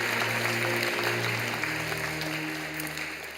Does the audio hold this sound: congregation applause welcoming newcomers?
yes